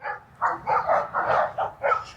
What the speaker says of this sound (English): And our dogs doing what they do, barking at everything.